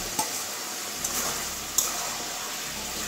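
Fried potatoes and pointed gourd being added to mushrooms in a frying pan, with a steady close sizzle, a few brief stirring clatters, and no talking.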